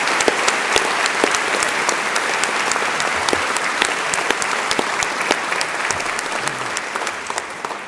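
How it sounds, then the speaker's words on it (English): Sustained applause from a graduation ceremony audience for a graduating student, a steady wash of clapping with sharp individual claps standing out, fairly restrained and even throughout. "I think Melissa deserves a bigger round of applause than that"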